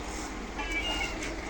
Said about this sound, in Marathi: ही मांजर पण आली इकडे.